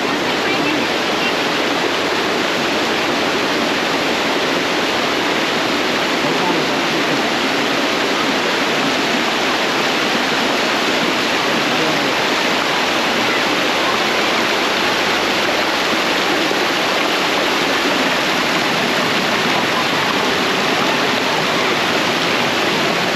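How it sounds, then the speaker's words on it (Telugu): Floodwater rushing hard after heavy rainfall, a loud, continuous broadband roar like a torrent or waterfall, steady and close for the whole stretch with no pauses. "నీళ్ళు మాత్రం బాగా పోతున్నాయి, ఫుల్గా పోతున్నాయి."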